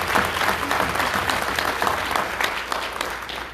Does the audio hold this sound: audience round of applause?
yes